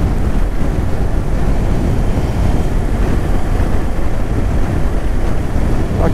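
Strong wind blows steadily along a desert roadside on the route to Uyuni, a loud continuous rushing roar buffeting the microphone without pause.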